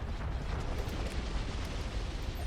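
A deep, rumbling ion cannon blast from a Star Wars Empire at War space battle booms and roars steadily for a couple of seconds.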